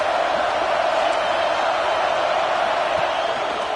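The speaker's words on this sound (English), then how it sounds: "This crowd trying to make life miserable for this offense." Stadium crowd at a Cincinnati football game, a dense, continuous roar of cheering and noise that holds steady and loud from start to finish.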